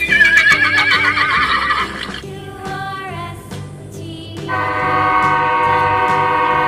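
A loud, shrill horse whinny rises and falls, followed by quieter nickering sounds and a long sustained tonal call, with no voices.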